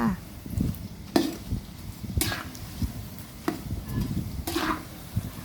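Fried hot dog meatballs bubbling in hot oil, a soft steady sizzle broken by occasional clinks and scrapes of a utensil stirring the pan, with no talk.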